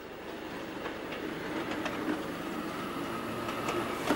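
Children's miniature railway train running outside a former freight depot at Witten station, a steady mechanical rumble with light rhythmic clicks of wheels over track joints, moderately close and continuous, with no talking.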